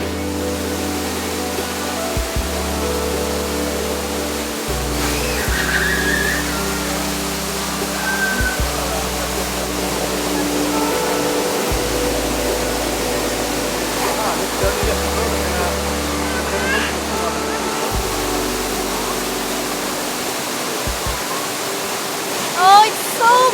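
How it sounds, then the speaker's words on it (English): A waterfall about 8 to 10 meters high in a tropical jungle gives off a constant broad roar that runs without a break the whole time, close and loud, with faint voices beneath it. "Waterfall. This is about 8 to 10 meters high, and then there is another one like at 20 meters or something"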